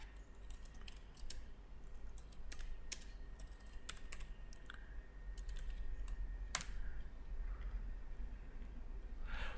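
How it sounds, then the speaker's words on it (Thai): Someone types a company name on a computer keyboard: quiet, irregular clusters of key clicks over a low hum, with one sharper tap near the end. "แล้วพิมพ์ชื่อบริษัทที่ต้องการ"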